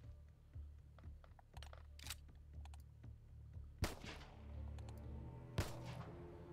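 Pistol shots crack out in the turn-based game Xenonauts 2, several light distinct reports early on followed by two louder, closer shots with a lingering tail, over quiet background.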